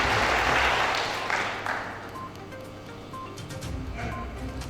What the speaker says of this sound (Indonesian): Pak Kamiludin, Rokan Hilir, kita berikan tepuk tangan.